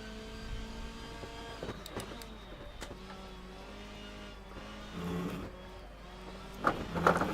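A touring car engine in the rFactor racing game at Oulton Park downshifts through the gears, its whining engine tone dropping and rising in steps, with sharp shift blips and a louder rev near the end.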